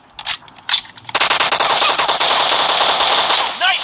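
Rapid gunfire from a PUBG shotgun challenge match in team deathmatch: a couple of isolated shots, then a dense, loud, continuous burst of automatic fire that rattles on for several seconds with game voice chatter underneath.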